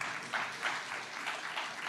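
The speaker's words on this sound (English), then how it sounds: "So a big applause for Eva." Applause for Professor Eva Blomqvist at the European Sustainability Congress 2025, light and fairly quiet clapping with a loose pulsing rhythm, heard alone.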